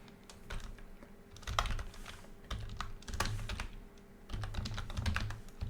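Steady computer-keyboard typing while HTML code is entered for an image source, quick irregular clicks coming in bursts with short pauses, close and fairly quiet, no voices.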